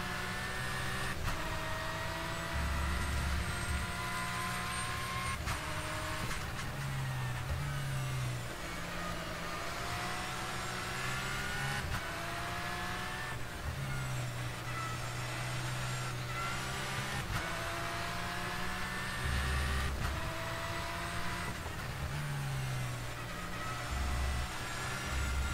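A Porsche 911 GT3 Cup race car engine in the rFactor 2 sim at Autodromo Claudio Vieytes drones steadily, its pitch climbing and dropping through gear changes over a long, continuous stretch.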